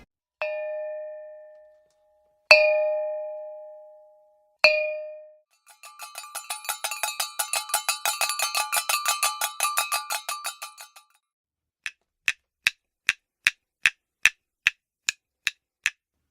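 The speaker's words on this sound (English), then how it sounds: "some of Beijing's most iconic sounds were the unique calls and chimes of hawkers roaming the hutongs, peddling their wares and services" Metal chimes of Beijing hutong hawkers ring out alone: three separate resonant strikes each left to fade, then a rapid shimmering rattle of small bells, followed by a rhythmic series of sharp clinks from a knife sharpener's chime.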